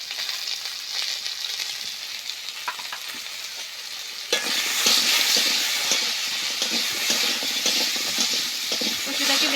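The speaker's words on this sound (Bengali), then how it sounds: "কচুটাকে বেশ কিছুক্ষণ নেড়ে নেব।" Taro pieces with salt and turmeric fry in a pan, making a bright continuous sizzle that suddenly grows louder and denser, with rapid scraping stirs throughout.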